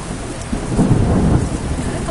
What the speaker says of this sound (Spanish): ¡Está lloviendo cañón!